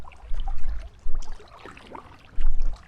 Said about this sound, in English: You can hear the water lapping into the bank.